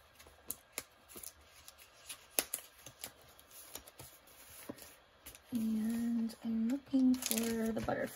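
Papers rifled in an ephemera folder, giving a string of quick, close rustles and flicks, with a voice talking over the final few seconds.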